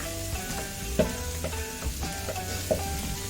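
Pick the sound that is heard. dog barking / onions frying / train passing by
onions frying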